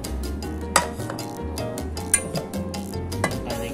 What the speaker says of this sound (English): So, dadalalagyan natin ng 2 cups ng olive oil.